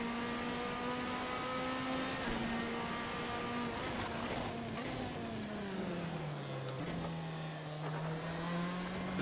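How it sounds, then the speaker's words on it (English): A Ferrari 458 GT2 race car's engine drones steadily at Spa, a loud sustained tone that holds, dips as it eases off, then climbs again, with no talking over it. "This car doesn't even sound exactly like an F1 car, but it already makes me miss those old V8s."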